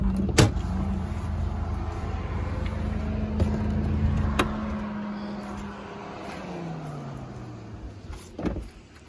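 Chevrolet Blazer 4x2 pickup stuck in mud near a cabin in Águas Mornas, its engine droning and straining at a steady pitch that then sags, with sharp door or body clunks over the top.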